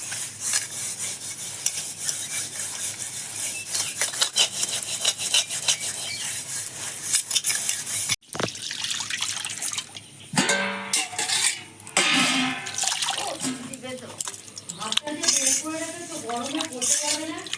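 Crushed eggshells scrubbed against dirty kitchen utensils, a steady gritty rubbing and rasping that runs continuously, then scraping strokes with someone talking over them.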